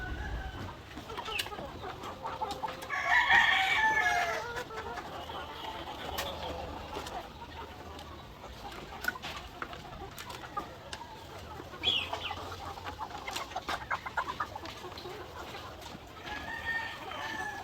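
Chickens clucking and calling on and off at moderate distance, with a brighter crow-like call early on, over a steady outdoor background.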